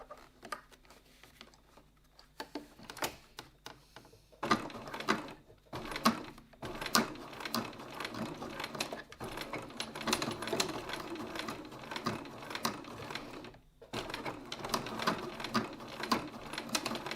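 A sewing machine stitches across the join of a wallet strap, close and steady with a fast mechanical patter, starting with a few short bursts and then running in two longer stretches with a brief stop between them.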